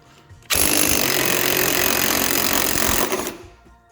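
A loud impact wrench hammers continuously for about two and a half seconds, close up, loosening a strut bolt on a Cadillac SRX, then cuts off and winds down.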